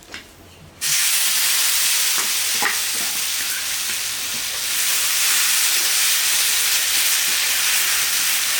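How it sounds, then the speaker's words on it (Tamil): Batter for a palm tuber dosa hits a hot pan with a sudden loud hiss, then a strong, steady sizzle and steam continue close by without speech. "இதே மாதிரி எல்லா தோசையும் ஊற்றி எடுத்துட்டு காமிக்கிறேன்"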